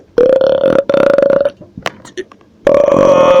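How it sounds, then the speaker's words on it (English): Loud, long burps from a man, two sustained belches back to back, then a short pause with small noises and another strong burp near the end, close up and alone. "These burps are crazy."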